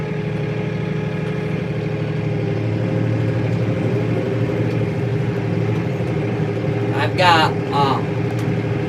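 A tractor engine runs steadily while planting corn at night, a constant low drone with a mechanical hum close by, and someone talks over it briefly near the end.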